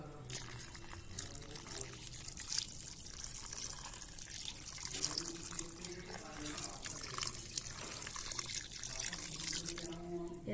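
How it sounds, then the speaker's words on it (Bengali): Water splashes and trickles as it is poured onto a newly potted aloe vera plant, a soft, continuous wet pattering close by and fairly quiet. "এবার জলটা দিয়ে দিচ্ছি।"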